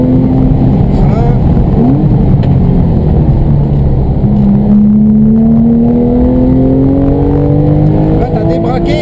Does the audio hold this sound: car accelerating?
yes